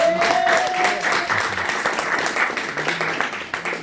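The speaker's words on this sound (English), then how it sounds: "Give Jasmine a round of applause." Audience applause for Jasmine at a business gathering, a dense, lively round of clapping from a crowd that holds steady and slowly thins out.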